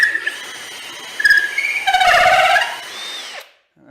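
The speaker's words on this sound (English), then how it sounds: "Again, this is a 25 mil or 1 inch auger, not particularly sharp, so we'll see how it goes." Power drill boring with a dull 25 mm (1 inch) auger bit, a short close burst of motor whine rising with squealing tones as the bit bites, then cutting off abruptly.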